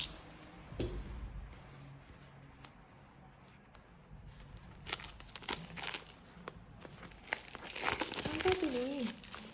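Crinkling and rustling packaging during the unboxing of a tarot card box, with intermittent crisp crackles and taps of handled cardboard and plastic, close and fairly quiet, while someone talks over it.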